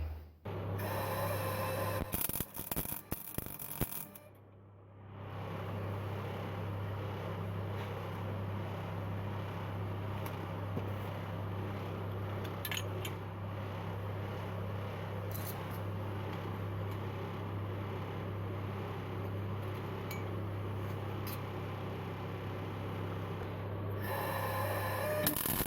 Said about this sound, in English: I'm going to weld a nut onto this plate because that's going to be pulling as I turn it